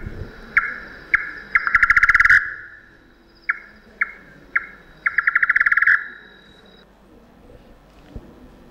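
A nocturnal bird calls out in the open at dusk, repeating sharp single notes that break into quick rattling trills in two bouts, fairly near and clear over a quiet background.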